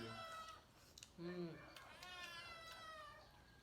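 A cat meows several times nearby in drawn-out, rising cries, with people's voices murmuring in the background.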